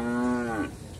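A cow at the Grabag animal market in Magelang lets out one loud, close moo that slides downward in pitch and trails off into the low murmur of the market.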